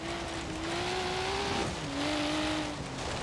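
Nissan Skyline GT-R in Forza Horizon, its upgraded engine droning loud and race-like with steady rising revs, a gear change midway, and tire noise over gravel.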